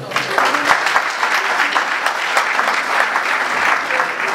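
An audience at a tribute event in Cameroon applauds warmly, a dense and lively round of clapping that continues strongly for several seconds.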